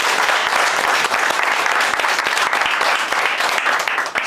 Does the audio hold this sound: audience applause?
yes